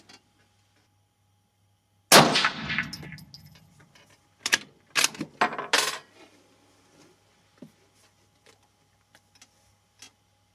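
A single sharp rifle shot at a shooting range from a Saba rifle fitted with a Sightmark Presidio 2.5-15x50 scope, loud and close with a short ringing decay, followed by several metallic clinks and small clicks.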